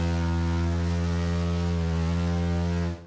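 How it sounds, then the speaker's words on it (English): A ship's horn sounds one prolonged blast, a loud, steady, deep tone held for about three seconds before cutting off. "A prolonged blast has a duration of about 4 to 6 seconds and sounds like this."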